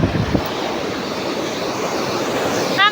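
Sea waves breaking on a shell-strewn beach, a steady loud wash of surf and wind filling the whole stretch with no voices.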